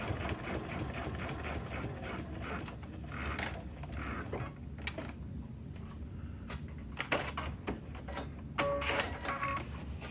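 A sewing machine with a digital dual feed walking foot stitches rows of channel quilting, a steady close mechanical whirring and rattling that runs almost continuously, easing briefly as the row ends.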